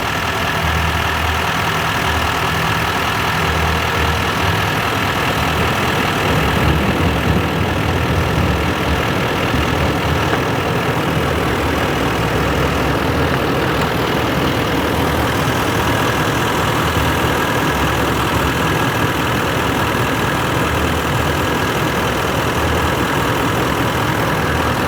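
A car engine idles steadily with the A/C compressor clutch engaged during refrigerant charging, a continuous mid-low hum that holds level for the whole stretch with no talk.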